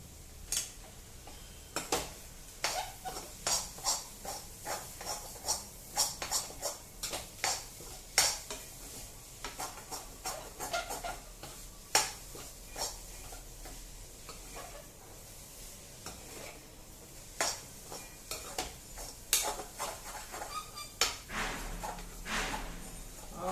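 A spoon scrapes and clinks repeatedly against a pan while egg fried rice is stirred, giving rhythmic close strokes over a faint steady sizzle, with no talking.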